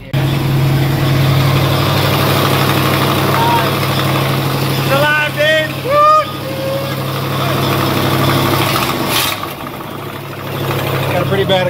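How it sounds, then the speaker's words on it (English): A 1967 Lincoln Continental convertible V8 idles with a bad exhaust leak, a steady low rumble throughout with some brief squeaky, chirping noises partway through and a louder burst near the end. "Pretty bad exhaust leak."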